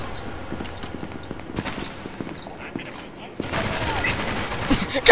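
Rapid gunfire in the multiplayer game SCP Secret Laboratory, repeated sharp shots under excited speech, growing louder and denser in the second half.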